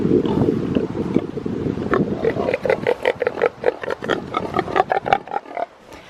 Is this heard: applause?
no